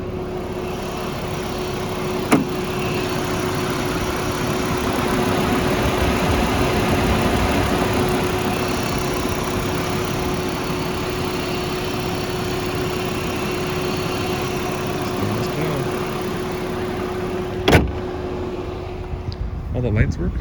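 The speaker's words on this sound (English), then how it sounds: "engine again with the fans running for the AC." A 1994 Audi S4 engine idles steadily with the air-conditioning fans running, a constant close hum and whir with a couple of sharp clicks, alone without talk.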